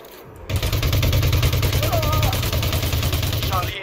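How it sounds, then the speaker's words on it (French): A rapid continuous rattle of automatic gunfire comes from a weapon in Elite Dangerous Odyssey, loud and close. It sounds as one sustained burst of more than three seconds, with faint talk underneath. "Alors des rafales courtes pour les longues distances"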